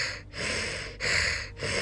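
A voice imitates a monster's panting breath, with three loud, breathy mouth-breathing exhales in a steady rhythm, close to the listener and with no other sounds.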